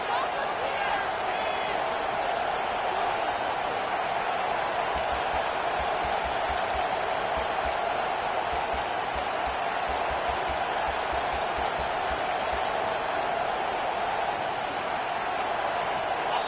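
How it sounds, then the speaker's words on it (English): A loud, rocking stadium crowd roars continuously in a football video game, a dense wash of cheering noise with faint thumps, under a commentator's voice. "with this place rocking, the crowd forces a false start"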